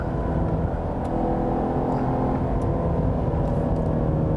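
2022 Cadillac CT5-V Blackwing manual sedan with its V8 accelerating on a race track, a close, loud and steady engine roar that holds throughout.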